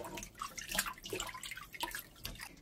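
Soaked seaweed for a dried pollack and seaweed soup is rinsed in water, giving close, quiet splashing, dripping and sloshing in uneven bursts with no talk.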